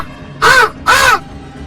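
A cartoon crow caws twice in a Hindi story, two loud, clear, harsh calls close by with a short gap between them, over a quiet background and with no talking.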